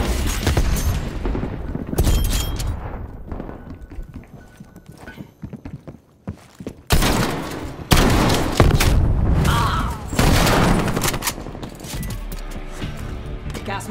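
A frag grenade blasts in a first-person shooter, loud booming bursts amid chaotic gunfire and clattering game action, with a sharp explosive hit near the middle followed by dense, noisy combat sound.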